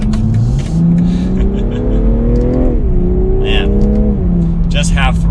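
A 2021 BMW M340i accelerates at half throttle, its engine note climbing steadily from a low drone through two rising sweeps as the gears change, loud and close throughout, with a voice talking over it.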